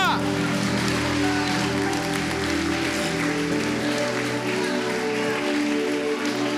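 A congregation applauds intensely at a family congress in church: dense, sustained clapping from a large crowd that continues without a break, loud and close, with voices mixed in beneath it.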